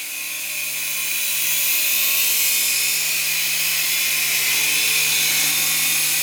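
A small S107 RC helicopter hovers indoors with a steady, high-pitched whirring whine from its rotors and motor, loud and close and continuous throughout.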